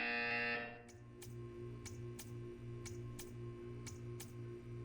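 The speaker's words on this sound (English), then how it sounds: "When you hear the buzzer, stare at the art." A short buzzer in the video game Portal 2 cuts off, followed by a steady low electronic hum pulsing in a regular rhythm, punctuated by sharp ticking clicks.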